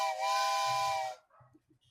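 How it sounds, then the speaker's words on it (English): A little toy train whistle gives one steady, breathy two-tone toot lasting about a second, loud and close, followed by faint rustling. "It is a little train whistle, specifically a little train as well."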